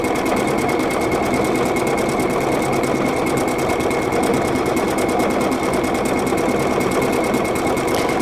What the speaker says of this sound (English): We're just going to stitch right down the middle of this piece of chino here.